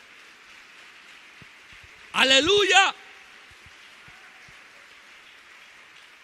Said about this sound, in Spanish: Dele un aplauso fuerte.